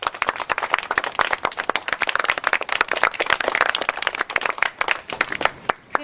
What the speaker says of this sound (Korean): 자, 축하의 박수.